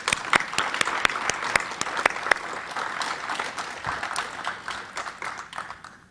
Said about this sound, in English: Would you mind to stand, Leon, so we can give you a round of applause?